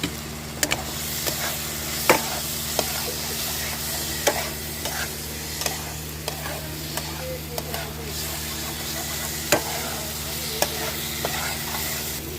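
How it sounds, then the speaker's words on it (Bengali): Pre-fried potatoes being stirred into a sizzling masala of spices and a little sugar in a pan, with a soft continuous fry and sharp scraping clicks of the spoon every second or so. "এবার আমি দিয়ে দেবো আগে থেকে ভেজে রাখা আলু"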